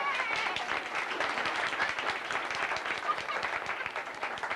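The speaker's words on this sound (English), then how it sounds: "Let's have a big round of applause for our great captain." A tour audience on a retro studio back lot gives the captain a round of applause, steady dense clapping at moderate distance with a faint voice underneath.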